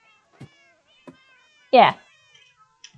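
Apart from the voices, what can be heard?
cats meowing in a video game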